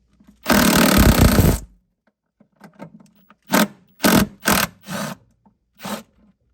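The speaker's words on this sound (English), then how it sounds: "I use a 10 millimeter socket." A 10 millimeter socket loosens a bolt on a 2002 Honda Accord during fuel tank replacement: a long loud ratcheting burst, then several short separate clicking ratchet bursts, close up.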